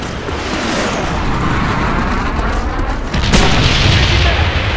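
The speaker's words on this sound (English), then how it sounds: "Friendly napalm strike on the way." Napalm strike explosion in Call of Duty: Black Ops on the Radiation map, a loud sustained rumbling roar that swells sharply near the end, with faint game chatter.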